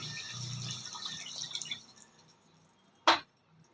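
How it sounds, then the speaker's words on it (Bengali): Water poured into fried mustard paste in a pan for a fish curry: a soft sizzling hiss fades out, followed by one sharp, brief splash. "এবার আমি এর মধ্যে জল ঢেলে দিচ্ছি"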